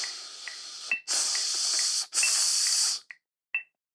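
Breath is blown through an oboe without sounding notes, giving two long, steady airy hisses separated by a brief pause, followed by a few short puffs.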